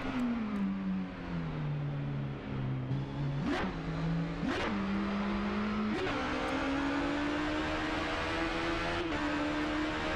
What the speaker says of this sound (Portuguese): Se concentrar no barulho da moto na hora de passar a marcha